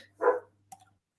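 A dog gives one short, loud bark indoors in a home, followed by a fainter click or yip a moment later, with otherwise quiet surroundings and no talking.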